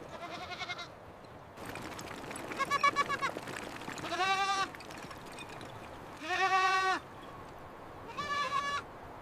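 Goats bleat repeatedly while being herded along a mountain track in Afghanistan, several loud, wavering calls in separate bursts over steady outdoor background noise, with no speech heard.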